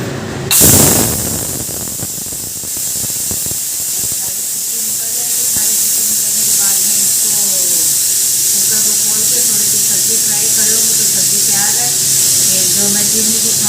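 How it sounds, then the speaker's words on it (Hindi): Steam hisses steadily as a home pressure cooker is opened in a kitchen, a loud burst at the start settling into a continuous spraying rush that fills the whole stretch, with faint background sounds underneath. "जब तक एक बार कुकर को खोल देती हूँ।"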